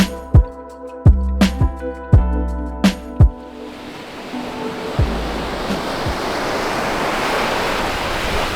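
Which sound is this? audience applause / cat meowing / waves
waves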